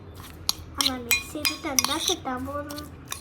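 Coffee powder, turmeric and other face pack ingredients stirred together in a bowl, giving a run of clinking, scraping spoon strokes against the dish, close and fairly loud, with someone speaking now and then.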